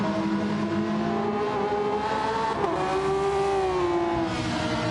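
Racing car engines from Gran Turismo 7 at Circuit de Barcelona-Catalunya, including a Ferrari, drone steadily, with pitch shifting as cars lift off the throttle and accelerate, loud and without talk.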